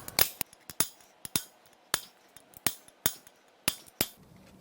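Hammer striking a salt-water-flooded Camaro LS1 engine part, about a dozen sharp metallic blows in an uneven rhythm, close and loud with short ringing decays.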